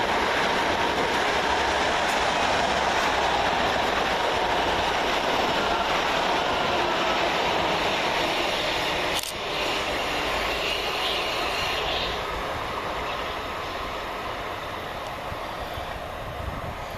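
Class 377 electric multiple units running through Anerley railway station, a continuous loud roar of a passing train with steady rail rumble and faint clatter throughout, fading slightly toward the end.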